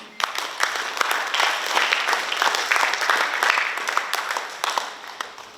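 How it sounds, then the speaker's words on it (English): A graduation ceremony crowd gives a round of applause for families, with many hands clapping in a dense, steady burst that swells and holds, then tapers slightly at the end. "Let's give a round of applause to our families"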